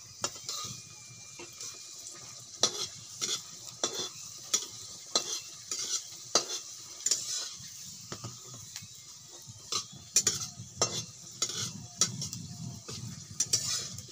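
A snack fries gently in a little oil over low heat, one piece at a time. A soft sizzle runs under repeated scraping and stirring strokes against the pan, close and fairly quiet.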